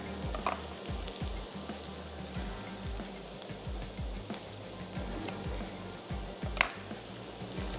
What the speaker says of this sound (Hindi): थोड़ा सा प्याज को भी चम्मच चलाते जाएंगे